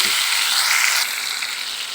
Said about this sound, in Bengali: এখন আমি দিয়ে দিচ্ছি এখানে কাপ দিয়ে দুই কাপ পরিমাণে পেঁয়াজ কুচি